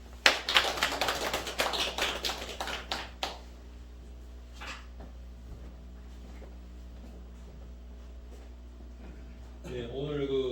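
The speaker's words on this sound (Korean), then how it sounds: "박수 한번 쳐주세요." A church congregation breaks into a burst of applause that fades out over a few seconds, leaving a quiet room with a low hum before a voice starts speaking at the end.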